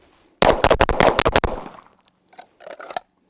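A rapid burst of about eight loud shots from a Staccato pistol, close and sharp, followed after a pause by a few fainter, more distant shots.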